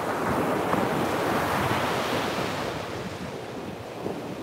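Steady, loud wind roars outdoors on a cold, damp day, with a dense rushing blast that buffets the microphone for the whole stretch and no voices.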